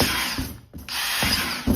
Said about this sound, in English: And what I got here is a 5/16 drill bit. So we're gonna go around, go around.